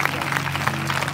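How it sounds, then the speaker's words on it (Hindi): A congregation at a Christian fellowship convention in Gangapur claps together, a brief, dense, even patter of many hands heard at moderate distance. "क्यों ना ताली बजाकर हम प्रभु को धन्यवाद देने पाए."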